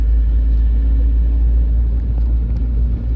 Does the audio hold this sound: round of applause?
no